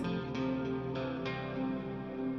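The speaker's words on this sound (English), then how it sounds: "Love that bit of reverb, that bit of delay on there." A sustained clean electric guitar tone with soft picked notes, washed in reverb and echoing delay, playing alone at moderate volume.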